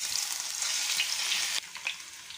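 Potato slices for chips fry in very hot oil with a dense, bright, continuous sizzle that drops suddenly to a lighter crackle with occasional soft stirring sounds.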